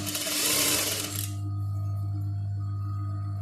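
A sewing machine runs in a loud, fast burst for about a second while stitching fabric for a baby's bib, then stops, leaving a steady low hum.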